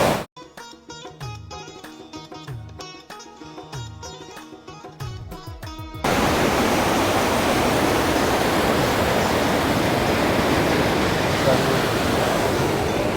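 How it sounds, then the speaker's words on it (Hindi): Musical notes play first, then a loud, constant rush of water gushing out of an outlet at Saif ul Malook Lake, Pakistan, takes over, a dense roaring spray close by. "ये देखिए बड़े ज़ोर और शोर से पानी का इखराज हो रहा है यहाँ से।"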